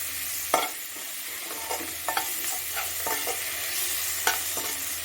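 Eggs for egg podimas sauté in a hot pan, a steady bright sizzle with repeated scraping stirs of a spatula at irregular intervals, close and alone without speech.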